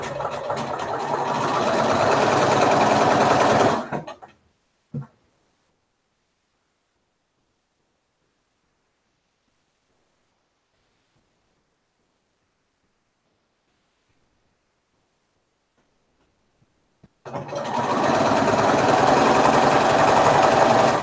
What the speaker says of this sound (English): now I'm going to sew my two sides here